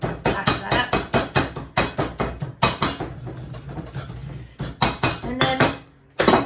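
Pistachios mashed by hand in a kitchen for a dark chocolate torte, a steady run of sharp, close pounding knocks in quick rhythm, then a brief pause before a few more hits.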